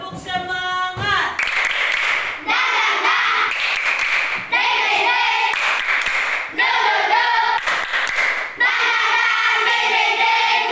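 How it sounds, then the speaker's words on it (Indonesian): A classroom of children stands for a rhythmic 'tepuk semangat' chant, clapping in patterned bursts while their young voices call along, with a teacher leading. The claps come in steady groups separated by brief pauses. "Kita mau tepuk semangat."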